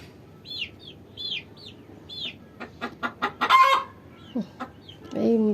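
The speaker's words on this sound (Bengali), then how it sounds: "মুরগিগুলো কিরম ডাকে।" Backyard chickens and a rooster on a rooftop garden, a series of close clucks and short calls followed by a burst of crowing-like cries, with quiet pauses between them.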